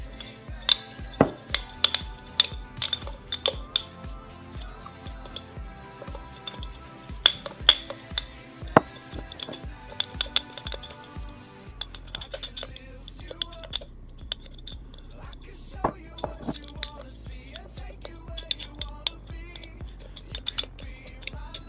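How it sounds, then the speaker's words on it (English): Salt body scrub mixed by hand in a bowl, giving a busy run of close scraping, clicking and gritty stirring strokes over a steady low hum, with the stirring loosening into sparser clinks partway through. "And then all I do for the salt one is mix as well."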